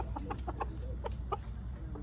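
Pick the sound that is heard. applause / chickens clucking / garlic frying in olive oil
chickens clucking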